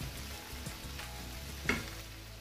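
Vegetables for crunchy noodles frying in a pan, a continuous close sizzle and hiss with a brief stirring scrape near the end, no talking.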